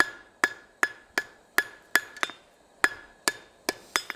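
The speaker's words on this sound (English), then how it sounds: "You want to be semi-precise with your hammer blows." A blacksmith's hammer strikes hot steel over an anvil horn while forging a tenon, about a dozen sharp, ringing metallic blows in a steady, measured rhythm, each with a short bright ring.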